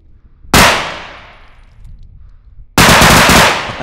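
Gunfire in the video game Bodycam: a sudden loud shot that rings off into a long decaying echo, then a second burst that opens into sustained, rapid, close automatic fire.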